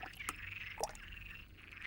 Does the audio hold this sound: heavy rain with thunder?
no